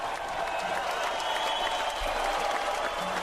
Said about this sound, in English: Xavier, you hear that applause for you?